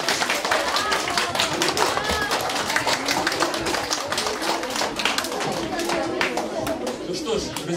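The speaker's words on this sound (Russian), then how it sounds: "давайте аплодисменты и поприветствуем замечательного актера Александра Синякова" An audience in a philharmonic concert hall gives a literary-musical program sustained, crisp applause, with scattered chatter mixed into the continuous clapping.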